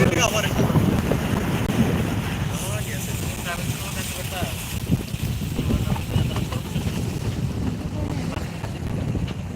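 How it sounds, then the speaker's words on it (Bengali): A boat moves across a flooded haor wetland in Sunamganj during the monsoon, with steady engine and water wash under strong wind buffeting the microphone throughout, close and continuous. "আমরা নৌকা দিয়ে যাচ্ছি একটু"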